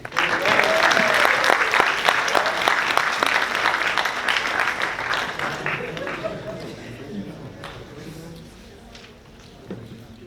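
A live audience applauds to welcome a sophomore speaker at a University of Southern California talk, loud steady clapping that fills the room before gradually thinning out and fading, with scattered voices and a few last claps near the end.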